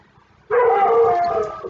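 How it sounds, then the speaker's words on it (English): A single dog lets out a long drawn-out howling bark, sudden and loud after a quiet moment, holding for over a second before trailing off. "sorry about the barking."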